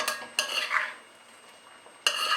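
Seasoned chicken for Jamaican brown stew gets a quick mix with a utensil: a few short scraping, clinking bursts at the start and end, separated by a quieter pause.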